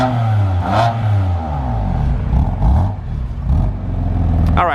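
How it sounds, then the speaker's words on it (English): A 2018 BMW M3 CS starts and idles with a deep, close exhaust rumble, blipped into several short revs that rise and fall, with a sharp clatter at the end. "Mike's gonna start it up here again so we get a little exhaust clip."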